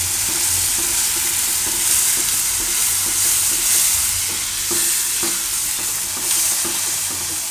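Ground tomatoes sizzling steadily in hot oil in a pan for a Gujarati khandvi shaak gravy, a continuous loud frying hiss with faint stirring scrapes, no talk.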